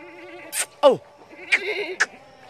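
Male goats being bathed in a canal on a goat farm let out several sharp, wavering bleats close by, four distinct cries spaced across the moment with quiet gaps between them.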